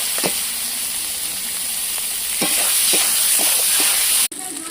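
Minced meat sizzles steadily in a pan with turmeric, joined by repeated scraping stirs of a spoon, the frying hiss loud and continuous before a brief cut near the end.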